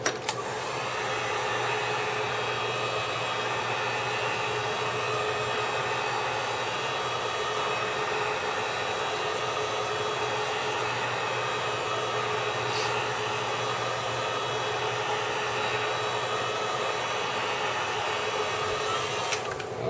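A heat gun runs in a steady, loud hiss with a rushing blower tone while warming the glued display of a 13-inch MacBook Pro Retina (A1425/A1502) during a screen replacement, continuous throughout with no talking.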